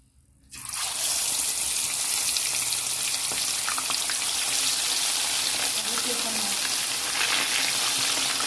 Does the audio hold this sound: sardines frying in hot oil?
yes